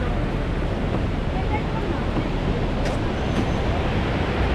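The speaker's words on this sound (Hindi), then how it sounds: "ये है नागा वाटरफॉल।" Rushing water from Naga waterfall in North Sikkim, a steady broadband roar filling the scene continuously, with no clear speech over it.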